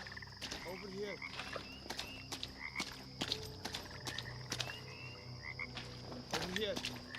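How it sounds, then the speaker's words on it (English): Frogs croaking loudly in a night scene of the audio game The Vale, a dense chorus of repeated croaks and chirps over a steady insect-like hum, with occasional sharp clicks and thuds mixed in. "Frogs are so loud."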